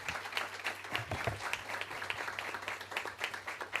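Dense, steady applause from a panel audience at a business conference, even clapping over a low background hum.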